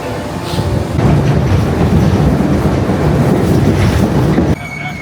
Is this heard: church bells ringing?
no